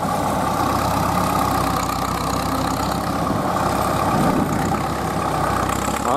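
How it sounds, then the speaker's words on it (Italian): A vintage Fiat 70R tractor engine idles close by at a ploughing festival, with a steady, uninterrupted low mechanical rumble and a slight swell in loudness near the end. "Trattore Fiat 70R"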